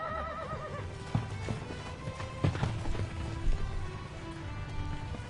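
A herd of working ranch horses gallops across Montana pasture, a dense, continuous drumming of hooves with occasional neighs and whinnies rising above it, heard from fairly close and without talk.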